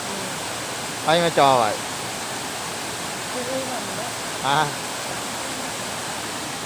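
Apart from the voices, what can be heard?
Saeng Chan waterfall flowing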